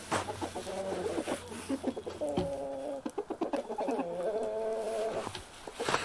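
Chickens clucking and murmuring near the coop, a steady stream of close, soft overlapping calls and bursts of clucks with quieter gaps.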